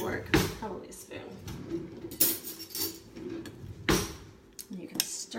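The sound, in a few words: spoon stirring popcorn and oil in a pot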